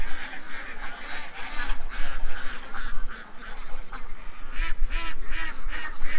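A flock of ducks, including older birds, quacks loudly and continuously up close, their overlapping calls forming a busy, chattering din.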